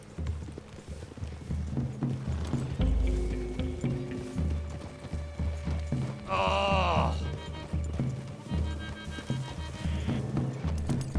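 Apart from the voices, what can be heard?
horses trotting in Red Dead Redemption 2 video game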